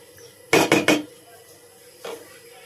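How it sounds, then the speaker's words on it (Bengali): Fried radish goes into a pot of radish payesh with three quick, close metallic clanks of utensil against pot, followed a moment later by a single softer knock. "আমি এখন মূলা দিয়ে দিচ্ছি, খেতে ভাজা মূলাগুলো দিয়ে দিলাম"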